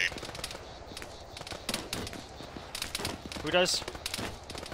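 Rapid gunfire in the Arma military shooter game, crackling in repeated bursts at middle distance while players talk over it.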